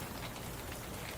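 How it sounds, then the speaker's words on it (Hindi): Heavy rain pours steadily at a Korean street-side hotpot restaurant, a dense, even hiss of falling water with no gaps or voices, moderately quiet throughout. "वैसे भी बहुत बारिश हो रही है।"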